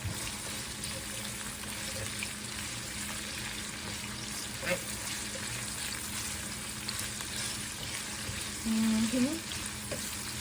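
Pâté frying in grapeseed oil in a non-stick pan, a steady close sizzle and crackle running throughout, with faint stirring and someone talking briefly over it.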